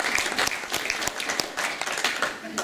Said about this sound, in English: I think those deserve a round of applause.